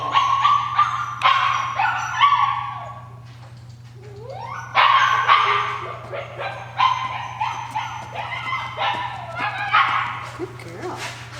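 A puppy barks and yips in repeated short bursts close by, with whimpering between barks, while a person talks over it and a steady electrical hum runs underneath.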